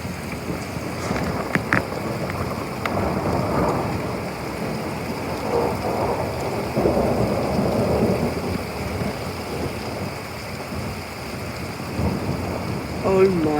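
Thunder rumbles through an arriving thunderstorm, a deep, rolling low roar that swells and fades across the whole stretch with rain hiss beneath, heard from indoors behind a shut door.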